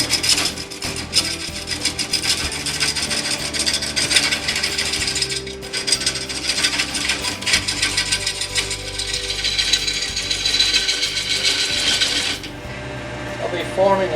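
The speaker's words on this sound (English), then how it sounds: "And now we'll continue with the rough gouging." A gouge roughs down a spinning mesquite stump on a wood lathe in a shop, making a loud continuous rasping, chattering scrape that runs throughout with a faint motor hum beneath.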